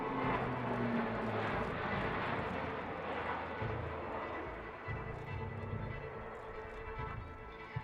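A C-130 Hercules transport aircraft flies past at an air show in Iwakuni, a broad roaring drone that swells and slowly fades, heard from a distance with no talk.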